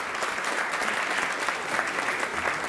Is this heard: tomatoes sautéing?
no